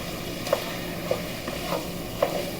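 Beef browns in a pan for lasagna soup with a quiet sizzle, punctuated by a few light, evenly spaced clicks of a spoon stirring it.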